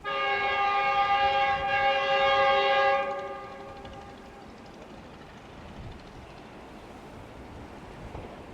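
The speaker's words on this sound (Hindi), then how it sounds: "GU20 का वेसल आया अभी" A GU20 diesel locomotive sounds a long, loud multi-tone horn near a railway tunnel, the blast holding about three seconds before fading into the low rumble of the approaching train, with no talk.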